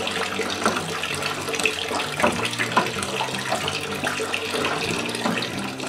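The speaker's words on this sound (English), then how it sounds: "let me put some water in the mash tun" Water runs steadily into a mash tun for a fresh pumpkin and brown sugar whiskey mash, sparging with hot water. A continuous, fairly close splashing flow with no talking.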